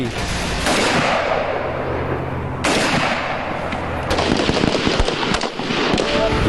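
Loud live-fire gunshots crack out at a 20-meter tactical shooting range, a few heavy blasts followed by a rapid string of quicker shots, with echoes trailing between them.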